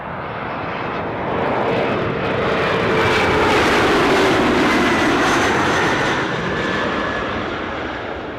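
A Lufthansa aircraft at Newcastle airport gives a loud, steady jet roar that swells and then eases slightly, heard up close with no talking.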